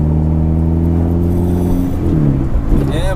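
Turbocharged 360bhp Mini engine droning loud and close while driving, a steady low harmonic hum that shifts and rises in pitch near the end.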